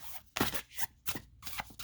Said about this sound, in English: Since we've shuffled a little bit, I will just deal a couple cards.